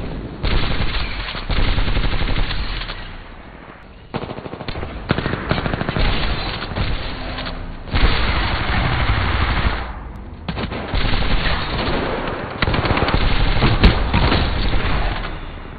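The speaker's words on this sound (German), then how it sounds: "hier zeige ich euch jetzt einfach mal kurz das Gameplay über die Elster und ich freue mich mega über diese Waffe." Automatic weapon fire from the Elster gun in the video game Apex Legends, loud sustained bursts of rapid shots that come in several long strings with short pauses between them.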